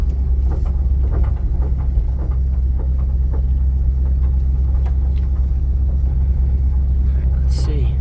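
A car approaches along a rural dirt road, a loud steady low engine rumble that fills the clip, with faint speech over the top and a brief higher squeal near the end.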